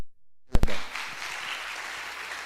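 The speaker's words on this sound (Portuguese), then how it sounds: "Então aproveita e aplaude" A church congregation breaks into applause after a couple of sharp opening claps, then keeps up a dense, steady clapping that holds evenly to the end, with no talking.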